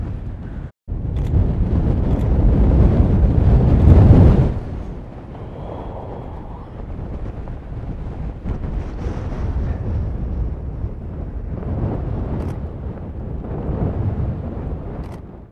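Strong wind buffets the microphone on an exposed Lake District hillside, a loud rumbling roar that drops back into steadier gusting and then swells again, with no voices.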